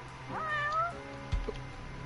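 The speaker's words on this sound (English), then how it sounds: "That's no pigeon, that's a cat." A cat meows in a video game, one clear, drawn-out meow rising and falling, followed by a short thump, heard alone over a faint game backdrop.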